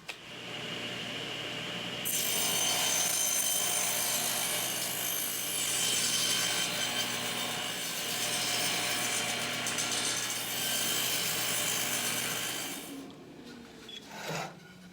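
A power saw cuts wood pieces to square their ends for table legs, giving a loud, steady, close cut that holds for about eleven seconds and then winds down, with no talking.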